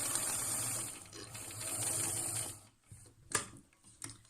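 A sewing machine runs steadily along a fabric face-mask seam with a 6mm foot, a continuous close whirring for about two and a half seconds before stopping, followed by a few soft handling clicks.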